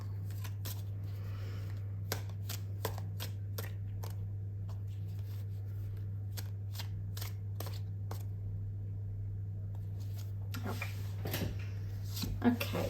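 Tarot cards being shuffled, a run of crisp, close, quiet riffling clicks and taps over a steady low hum, with one brief spoken word near the end.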